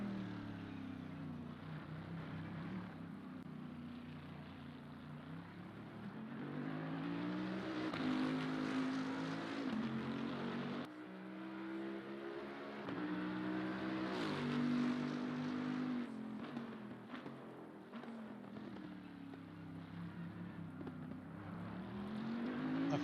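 Race cars in Assetto Corsa Competizione at Spa, heading down into Eau Rouge, with engines droning and rising and falling in pitch through gear changes, several cars overlapping in a loud, continuous roar.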